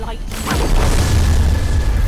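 Explosion in the video game Godsworn: a sudden deep boom that swells into a loud, sustained rumble, with a voice speaking over it.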